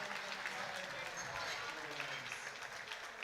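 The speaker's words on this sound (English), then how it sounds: "She gets a warm applause, a big applause from the crowd." A crowd at a women's sub-junior powerlifting championship gives warm applause for a lifter, the clapping fairly faint and distant beneath a commentator speaking.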